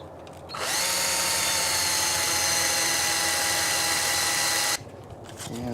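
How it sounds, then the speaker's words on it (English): A power drill bores a hole into a bushcraft knife handle, a steady high whine that starts abruptly, holds loud and close for about four seconds, then cuts off and briefly restarts. "so I can drill now into this directly, because I can see right where it goes"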